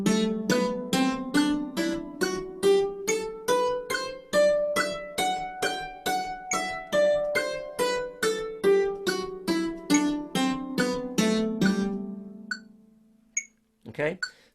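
An instrument plays a steady series of short, evenly spaced notes with each one damped silent before the next, ticking along with a metronome in a clear regular rhythm for about twelve seconds, then a few faint taps.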